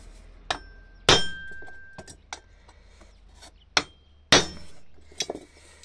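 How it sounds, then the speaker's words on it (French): A hammer strikes a center punch on sheet metal to mark a cone for a screw head, giving several sharp, ringing metallic taps spaced irregularly, close and loud. "Ça, c'est pour faire un cône pour la tête de vis."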